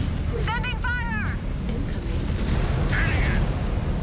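Mech weapons fire in a Mechwarrior Clans battle, a steady loud rumble of bursts and booms with a short harmonic whine early on and voices talking over the din.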